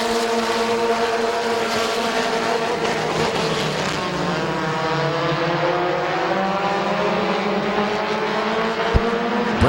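Race cars at Midvale Speedway roar into a turn in a dense, continuous engine howl whose pitch rises and shifts as several cars run close together, steady and loud throughout with no talk.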